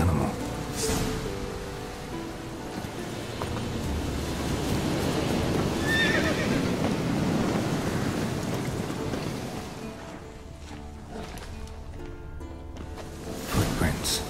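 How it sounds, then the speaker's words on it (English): A horse named Roach neighs and its hooves clop in the Witcher 3 video game, a whinny over ambient wind-like rumble, with a voice talking intermittently and a sharp burst near the end. "That's his horse."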